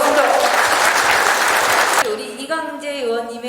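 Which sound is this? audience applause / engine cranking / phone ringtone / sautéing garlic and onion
audience applause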